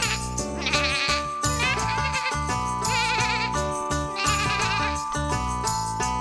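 A children's farm song sung in Portuguese over a full musical backing, with bleating sheep sounds woven into the music throughout, steady and prominent rather than a standalone animal recording.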